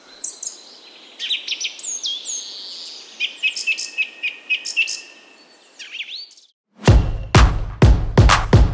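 Birds chirp and call in the Munnar hills of the Western Ghats, with repeated high tweets and trills over a soft insect hiss, then loud sharp clicking knocks close by near the end.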